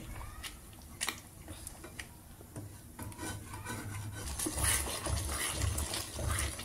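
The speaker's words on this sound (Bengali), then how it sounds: "এভাবে খুন্তি দিয়ে বারবার এটাকে চালিয়ে যেতে হবে।" A spatula stirs a thickening kalakand mixture sweetened with nolen gur in a pan over low flame, producing soft repeated scraping and wet rubbing strokes at close range, quiet and continuous.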